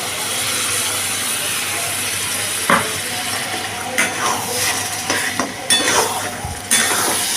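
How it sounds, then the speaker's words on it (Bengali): Ground soybean paste is stir-fried with egg and spices in a pan, a steady sizzle running beneath repeated scraping and clanking of a metal spatula against the pan, with sharper knocks coming in irregular bursts. "এইবারে মশলার সাথে ডিমের সাথে সয়াবিনটাকেও আমি ভালো করে কষিয়ে নেব।"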